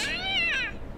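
A cat in the video game Yakuza: Like a Dragon gives a single clear, rising-and-falling meow, close and loud, lasting under a second with no talk.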